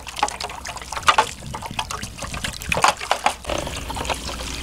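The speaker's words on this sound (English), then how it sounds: "Here comes the water. Squirt it in there." Water squirts and splashes onto toy construction trucks during a washing game, irregular gushes and trickles with sharp spattery bursts, close and fairly loud.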